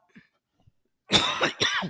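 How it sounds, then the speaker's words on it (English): A close, loud cough in two harsh bursts after a brief near-silence. "I have a cough still."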